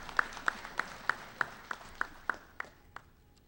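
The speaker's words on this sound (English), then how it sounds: "Can you give them a round of applause?" Sparse, evenly spaced claps from a small part of the audience at a graduation ceremony, about ten sharp single hits in a steady rhythm that thin out toward the end, heard in a large room.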